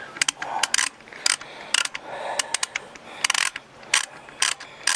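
A ratchet turning out a bolt on the idler pulley of a BA Falcon, giving rapid clusters of sharp metallic clicks in uneven bursts, close and fairly loud.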